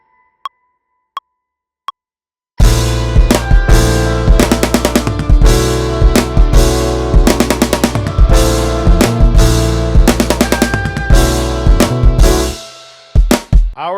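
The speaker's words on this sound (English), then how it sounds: "I guess it could be a xylophone kind of sound here." A xylophone-like orchestral percussion synth plays a rapid rhythmic melody of struck mallet notes over a deep low layer, preceded by three isolated clicks and ending in a few sparse hits.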